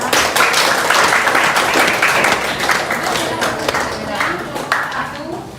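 A classroom group claps after a presentation, a close, lively round of hands with individual claps standing out, and voices talking under it before it tapers off.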